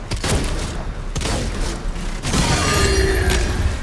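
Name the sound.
gunfire from an enemy in the video game DOOM: The Dark Ages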